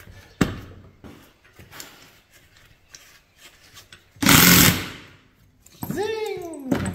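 A flap wheel grinds briefly on a part from a Ford F250 truck, one loud harsh burst of about a second, followed by a whining tone sweeping in pitch amid quiet knocks and handling noises.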